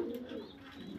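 Pigeons kept for sale give a low, throaty cooing that swells and fades across a short stretch, close and steady, with no voices over it.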